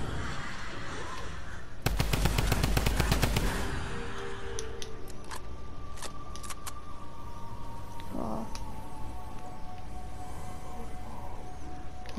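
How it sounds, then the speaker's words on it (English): A drum gun fires in the Fortnite video game, a fast rapid burst of shots for under two seconds, followed by scattered clicks and faint game effects with no talking. "Got the drum gun."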